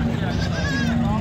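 A goat bleats in a wavering, drawn-out call at a crowded livestock market in Sahiwal, heard under loud, continuous speech from several men nearby.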